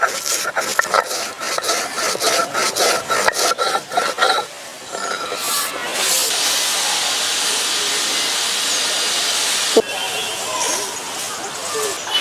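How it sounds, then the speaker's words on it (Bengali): Hot roasted whole spices are ground on a stone shil, with rhythmic rasping strokes of the grinding stone followed by a long, steady scraping rub, loud and close. "মশলাটা গরম থাকতে থাকতে শিলে পিষে নেব।"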